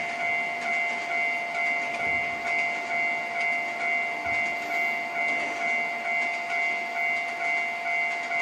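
Rail traffic in the Trainz 12 simulator: a train rumbles steadily through a level crossing, with a sustained tonal drone and soft periodic wheel thumps, moderately loud and continuous with no talking.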